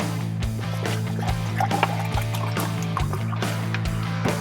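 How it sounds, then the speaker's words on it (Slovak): Water poured into a drinking glass, a steady close liquid trickle and splash running throughout over a constant low engine-like hum. "Nalejem do tohoto pohára vodu."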